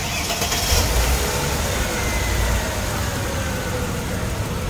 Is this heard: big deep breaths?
no